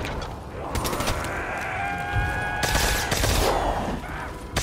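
Gunfire and explosions in Call of Duty: Black Ops III, Origins map, form a dense, loud fusillade of rapid overlapping shots and blasts that runs continuously, with heavier bursts near the middle.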